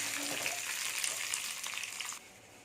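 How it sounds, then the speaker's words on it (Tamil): Curry leaves dropped into hot oil with mustard seeds that have already popped, hissing and sizzling in a steady close burst that cuts off abruptly near the end. "கடுகு நல்லா பொறிஞ்சிருச்சு கருவேப்பிலையை போட்டுட்டு"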